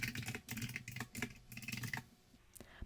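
Text is typed on a computer keyboard, rapid close-up key clicks in quick bursts with short pauses, ending in a quieter gap and a final keystroke.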